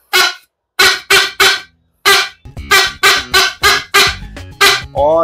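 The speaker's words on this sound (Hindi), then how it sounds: "ये बाजा भोंपू।" A small toy horn, a bhonpu, is blown in a quick run of loud, honking blasts, about a dozen short goose-like toots in an uneven rhythm, very close.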